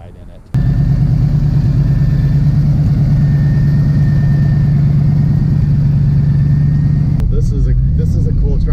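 A De Tomaso Pantera sports car drives with a steady, loud low engine drone from inside the cabin, running continuously from just after the start until the engine note shifts near the end.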